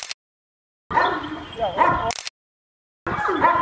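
A large Kangal dog gives a few short, close barks and yips in separate bursts with silent gaps between them.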